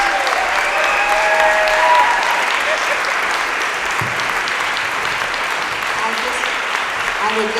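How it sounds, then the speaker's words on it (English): Full, dense audience applause and ovation for the panelists and moderator of a panel discussion. It stays loud and even from start to finish, with a few faint shouts mixed into the clapping. "Please keep that applause going, that ovation going for all of our panelists and our moderator, Ericka Huggins"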